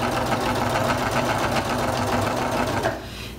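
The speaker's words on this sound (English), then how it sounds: "And then you're going to slowly stitch down" A sewing machine stitches rickrack trim down the center seam of a quilted Christmas table runner, a steady rapid whir running loud and close before easing off near the end.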